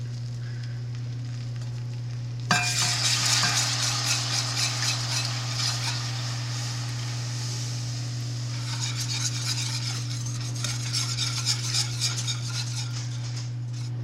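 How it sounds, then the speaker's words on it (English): A whisk beats milk and half-and-half into a homemade mac and cheese sauce, a brisk rapid scraping against the pot that starts abruptly and continues steadily over a constant low stove hum. "So I'm going to whisk that in."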